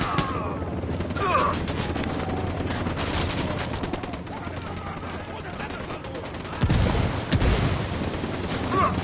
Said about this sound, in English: Fucking Apache's about to fire.